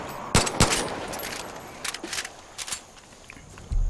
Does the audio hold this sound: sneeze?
no